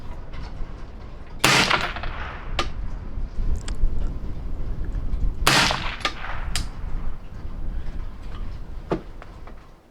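Two loud suppressed rifle shots of 5.56 55-grain ammunition through a DDC Enticer S suppressor at an outdoor range, several seconds apart, each a sharp crack with a short ringing tail, plus small metallic clinks in between.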